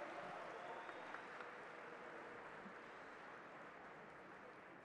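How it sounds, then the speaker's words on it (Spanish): An audience applauds steadily at a political science conference marking a university program's anniversary, with sustained clapping heard faintly and at a distance. "Un aplauso."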